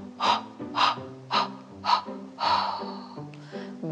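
Preschool children breathe in deeply during a winter yoga breathing exercise, a series of five or six audible inhales at a steady rhythm, close and moderately loud, with a few soft voiced sounds among them.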